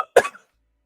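A man gives a single short, dry cough close to the microphone, followed by silence.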